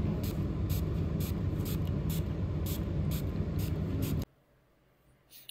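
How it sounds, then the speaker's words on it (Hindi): Hit insecticide sprayed at insects indoors at home, a steady pressurized hiss lasting about four seconds before cutting off abruptly, close to the microphone, followed by near quiet. "घर जाने के बाद मैंने शुरू कर दिया कीड़ों के साथ लड़ाई तो यहाँ मैं करी थी स्प्रे"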